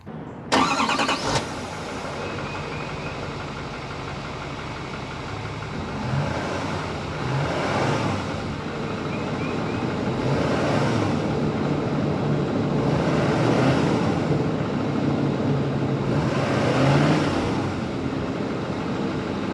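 A 2020-2025 Chevrolet L5P Duramax diesel truck with its stock factory exhaust starts with a sharp burst, then idles and revs repeatedly in slow swelling waves, a deep rumbling exhaust heard close by.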